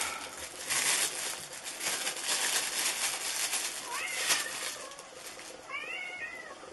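A cat meows several times, short rising and falling calls near the end, over close crinkling and handling noise; no talking is heard.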